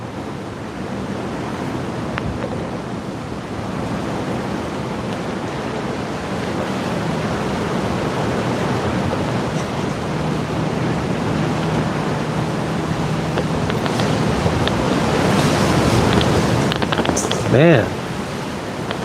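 Wind buffets an outdoor microphone in a steady, dense rush that swells toward the end, with a brief louder gust near the finish, while a voice is briefly heard.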